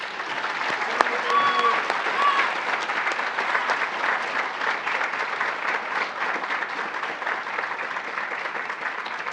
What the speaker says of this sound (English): So help me give a round of applause again to Bryce Smith